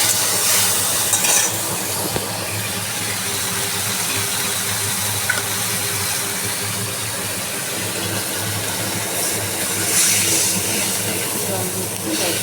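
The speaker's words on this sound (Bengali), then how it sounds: "এবার আমি যে মশলার জলটা করে রেখেছি এটা দেবো। ভালো করে বেগুনটাকে কষিয়ে নেব।" Eggplant sizzling steadily in a pan after spice water goes in, a loud continuous frying hiss with occasional stirring scrapes, close and unbroken throughout.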